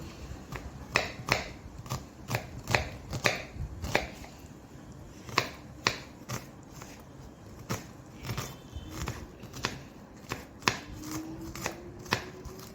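A knife chops onion finely on a cutting board, a close series of sharp, crisp taps in uneven bursts of quick strokes with short pauses between, fairly quiet and with no voice.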